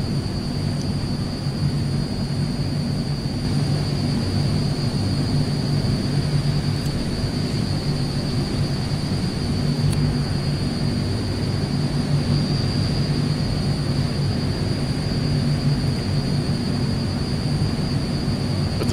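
AzurPoly C-160 transport aircraft in Microsoft Flight Simulator, a steady, fairly loud engine drone with a constant high whine running unbroken throughout, no talking.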